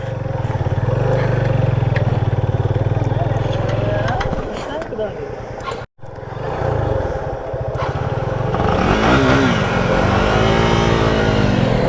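Seven motorbikes ride along a slippery off-road trail, engines droning and revving near and loud, dipping briefly midway before climbing again, while riders talk over the noise throughout.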